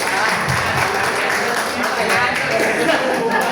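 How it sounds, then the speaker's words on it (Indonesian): Loud, sustained applause from a workshop audience, dense clapping filling the room throughout with a few voices mixed in. "Tepuk tangan dulu tuh kan"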